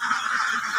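Newly arrived ducklings, one to three days old, peep together in a pen, a dense continuous high chorus of chirping heard close and steady.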